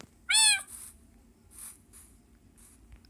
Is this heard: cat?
yes